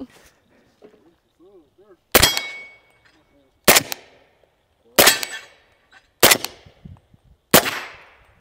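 Five sharp suppressed gunshots ring out at an outdoor shooting range, evenly spaced over several seconds, each a loud close crack trailing into a brief echo, with faint murmurs between the first shots.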